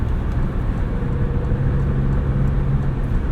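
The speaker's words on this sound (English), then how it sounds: "You can hear some of that wind noise, mostly from the upper area" Steady low wind rush and road roar inside a 2022 Alfa Romeo Stelvio Quadrifoglio SUV while driving, with a constant broadband hiss and a faint hum underneath.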